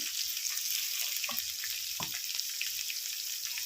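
Ivy gourds roasting in hot oil make a quiet, steady frying sizzle, close by, with a few soft stirring knocks and scrapes and no talking.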